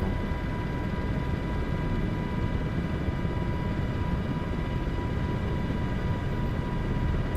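Steady, close rotor and turbine roar of a Black Hawk helicopter in flight in Microsoft Flight Simulator 2024, a dense continuous drone with a faint high whine that holds unchanged throughout.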